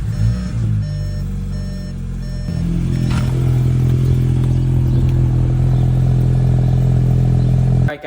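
A VW Mk7.5 GTI with an IE catback exhaust, CTS catless downpipe and stage 2 tune fires up and holds a loud, deep, steady droning idle close by, then cuts off abruptly at the end.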